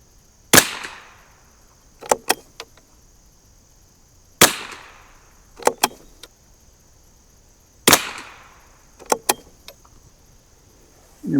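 1972 Anschutz Model 54 rifle firing during ammo testing on a windy range: three sharp separate shots spaced a few seconds apart, each followed by faint metallic clicks of the bolt being worked, with no talking.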